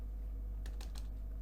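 A few quick keystrokes tapped on a computer keyboard, close and soft over a low steady hum, lasting only a moment with no talking.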